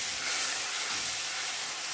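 Hot chicken yakhni stock poured into a hot pan gives a loud, steady hissing sizzle with steam that holds evenly for about two seconds, with no voices.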